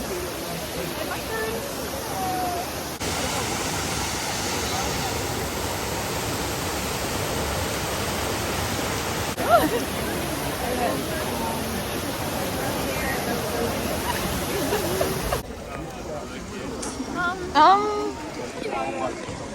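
Water splashes and rushes steadily at the Trevi Fountain in Rome, a broad continuous wash of spray heard nearby, with crowd chatter and a voice talking throughout and a few sharper clatters.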